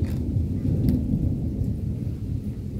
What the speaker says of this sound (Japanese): ほら、雷が鳴ってきた。